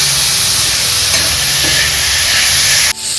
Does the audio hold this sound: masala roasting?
yes